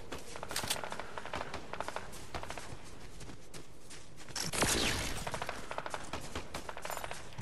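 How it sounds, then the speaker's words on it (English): Rapid bursts of gunfire in the video game Fortnite, a city setting, with repeated sharp shots in quick volleys throughout and a louder, denser burst midway, fairly close and without talk. "They're actually shooting my way too."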